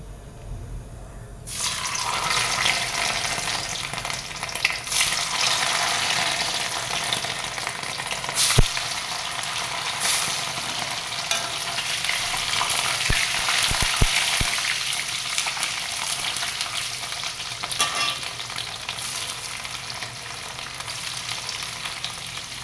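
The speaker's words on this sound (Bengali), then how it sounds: "তো তেলটা গরম হয়ে গেছে, তো চলো পনিরগুলো আগে ঝপঝপ করে ভেজে নিই।" Paneer cubes frying in hot oil in a home kitchen, a loud, steady sizzle that bursts in near the start and crackles on continuously for over twenty seconds, with a few clinks of utensils and no talking.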